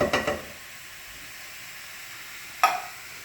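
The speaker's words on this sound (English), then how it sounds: "And give this another quick stir." Rotel dip sizzles and hisses in a hot pan as it is stirred, with a couple of quick scraping bursts at the start and another near the end over a steady soft frying hiss.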